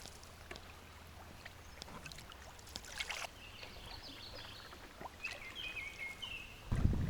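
Water trickles and laps softly against a canoe's hull on the Saugeen River in southwestern Ontario, with faint paddle splashes and distant bird chirps in a quiet outdoor setting.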